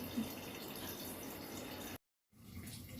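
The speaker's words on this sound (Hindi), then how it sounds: "ये चावल बॉयल हो रहे हैं" Continuous bubbling and hissing of rice boiling in water in a pot, steady throughout with a brief dropout of silence.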